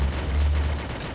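A P90 submachine gun fires in a video game, a rapid, loud stream of shots with heavy low-end thump that rolls on continuously for over a second.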